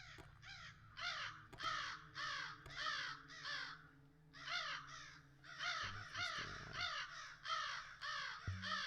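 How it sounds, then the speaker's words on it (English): Crows in the cyberpunk ghost-story game Sense caw in repeated harsh bursts. Several calls overlap in a loud, insistent rhythm, with no speech. "So these crows are going to attack me."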